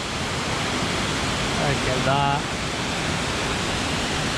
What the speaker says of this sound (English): What an absolutely stunning waterfall.